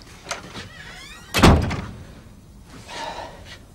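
A door is closed with a single solid thunk, preceded and followed by brief shuffling sounds in an indoor scene.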